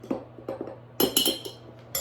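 A spoon stirring baking powder into flour inside a jar, producing a series of light clinks and taps against glass, sparse and close, with a brighter cluster of knocks midway.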